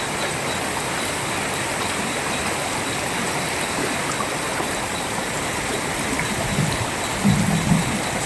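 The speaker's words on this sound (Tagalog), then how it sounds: "Lakas ng tubig" Strong floodwater after heavy rain rushes with a loud, constant roar, with a few low thumps breaking through near the end.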